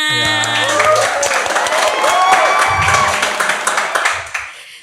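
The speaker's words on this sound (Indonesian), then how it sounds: "Boleh minta tepuk tangannya." A studio audience claps to welcome a guest on an Indonesian podcast about DeFi, a short burst of applause that fades out, with a tonal musical sting and talking mixed in.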